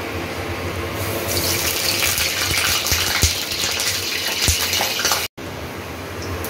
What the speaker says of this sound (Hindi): अब इसमें मैं दूंगी पानी के छींटे